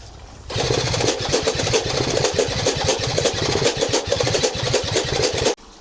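An old scooter engine with an aging carburettor fires up on its electric starter and runs for several seconds in a loud, rapid, uneven chatter, then cuts out abruptly.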